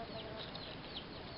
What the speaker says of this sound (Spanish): Allá anda la gallina con sus polluelos.